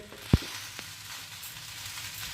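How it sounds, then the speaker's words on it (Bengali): Chicken fried rice crackles and sizzles steadily in a pan as it is stirred, with one sharp clack of the utensil near the start and soft hissing throughout. "তারপর নাড়িয়ে নেওয়া হচ্ছে, দেখতে পাচ্ছেন একটা পরপরানি আওয়াজ হচ্ছে"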